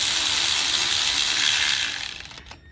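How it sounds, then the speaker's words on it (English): A ratchet tightening lifter trays on a 6.0 LS engine clicks rapidly and steadily up close, then fades and stops near the end. "so we're going to tighten our lifter trays down here."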